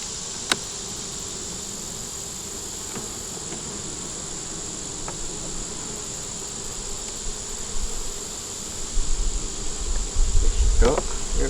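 Honey bees at a growing hive being inspected hum in a steady, continuous buzz close by, with a few louder passes near the end and faint handling knocks.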